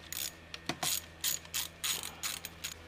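A ratchet wrench clicks in short repeated bursts while a pipe is unscrewed during a car thermostat replacement, close and loud with brief pauses between strokes.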